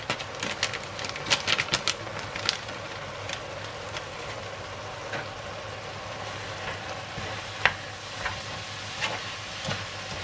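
Ingredients stir-fried in a pan give a continuous hissing sizzle with a cluster of sharp scraping clicks early on and scattered utensil taps later, close and fairly loud, with no talking.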